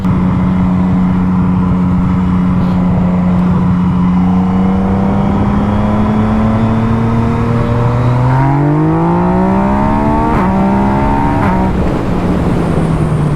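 A Yamaha MT-09 motorcycle accelerating hard through traffic, its engine note climbing steadily in pitch through the gears, loud and close, with steady wind and road roar and no talk.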